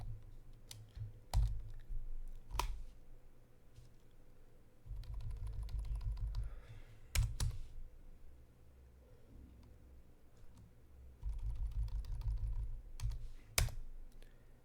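Typing on a computer keyboard as Python code is entered, with bursts of quick clicking keystrokes broken by pauses and a few sharper, louder key strikes, all close and with no voices.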